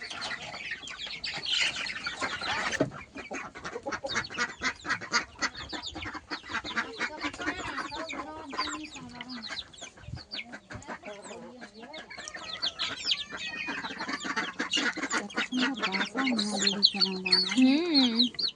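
Household chickens shut in their coops in a Bengali village cluck and squawk repeatedly, close and busy, with a voice speaking at times among them.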